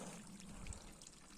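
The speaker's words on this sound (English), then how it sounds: "the water is now flowing over" Water flows over a fully submerged micro hydro intake filter, heard as a faint, steady trickle and wash outdoors with no voices.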